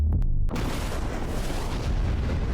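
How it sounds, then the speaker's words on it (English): A large explosion destroying a Lamborghini, heard as a sudden loud boom that swells into a sustained roaring rumble and carries on to the end. "This is a real explosion."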